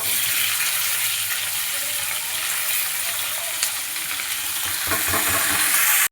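Garlic and tomato roasting with a little salt in hot oil in a pan, a continuous dense crackling sizzle, close and fairly loud, with a few faint stirring scrapes toward the end.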